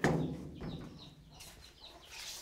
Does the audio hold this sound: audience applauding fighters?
no